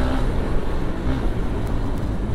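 A KTM Duke 200 BS6 motorcycle rides along an open road, giving a steady, dense engine and road roar with wind noise throughout and no clear gear changes.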